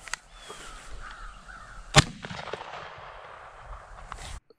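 A single sharp shotgun blast rings out outdoors during a dove hunt, loud and close, with faint crow caws in the background before and after.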